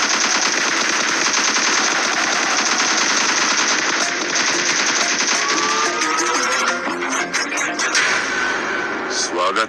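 Rapid automatic gunfire pours into smoke during a game firefight, dense and continuous at close range, with people talking over the shooting.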